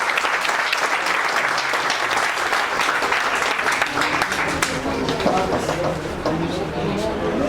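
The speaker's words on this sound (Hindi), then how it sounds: "ऐसे ही जोरदार तालियों से स्वागत करेंगे" A crowd gives loud, sustained welcoming applause, with scattered voices rising over the clapping toward the end.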